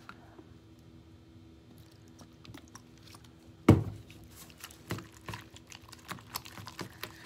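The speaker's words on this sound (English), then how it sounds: "I'm not really stirring as much as I'm chopping, because that breaks the plaster up" A tool chops and stirs plaster mixed with water in a cup, making faint, wet, squishy taps that start sparse and become a quicker patter, with one sharper knock partway through.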